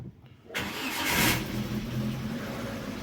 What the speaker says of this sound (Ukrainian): Все, машина завелась.